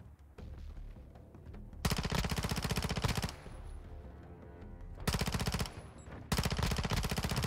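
Automatic PDSW 528 fire in Call of Duty, loud sustained bursts of rapid shots, three long strings separated by short pauses, with no talking.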